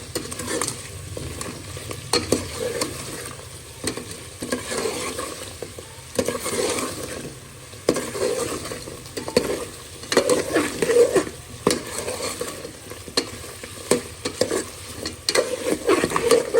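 Mutton degi korma frying with spices, stirred repeatedly with a steady sizzle and rhythmic scraping and clattering of a utensil against the pot.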